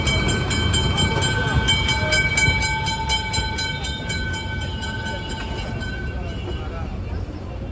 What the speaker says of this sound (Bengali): ট্রাম চলছে টুংটুং ঘণ্টা বাজিয়ে শ্যামবাজারের দিকেই।